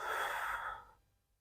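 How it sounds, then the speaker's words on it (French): A single forceful exhale through the mouth during a guided lumbar-stenosis exercise, a close, breathy rush that fades out over about a second, with no talking. "Lorsqu'on monte, on expire par la bouche."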